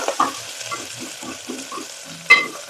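Onions frying in a pan for beetroot pulao, soft crackling sizzle with intermittent stirring scrapes and a sharp utensil clink near the end, close and moderately quiet.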